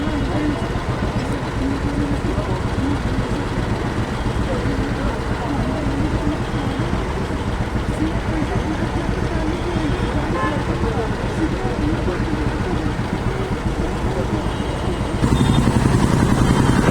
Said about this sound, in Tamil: டிராஃபிக்கில் சிக்கிட்டுங்க.